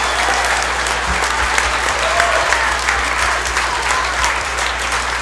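Audience at a 5th grade graduation program applauding student ambassadors, a dense, sustained crowd clapping that fills the room with steady, even intensity and a low background hum.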